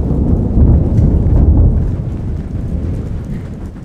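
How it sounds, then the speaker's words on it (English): Thunder rolls in a low, broad rumble during a rainy outing in Namibia, swelling in the first couple of seconds and then slowly fading, heard alone without voices. "there's thunder."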